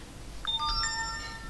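A phone plays an incoming SMS notification during an OpenBTS 2G network test. The melodic electronic tone has several rising and falling beeps lasting about a second and is clear over a quiet room hum.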